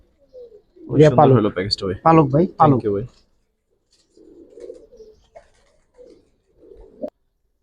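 Giribaz pigeons of the Palla line give low, soft coos in a loft, a few muffled rumbles following a burst of nearby male speech.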